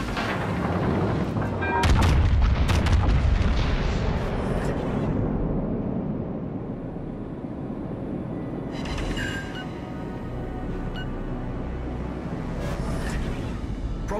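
Naval guns fire in the World of Warships: Legends naval battle game, starting with heavy booming salvos and deep rumbling blasts, then settling into scattered distant shots and crackles over a continuous low roar.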